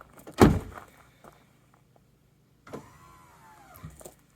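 An Amp Research power running board on a 2019-2022 GMC Sierra AT4 thunks sharply as a door opens, then its motor whirs briefly with a rising whine as the step deploys, ending in a soft clunk.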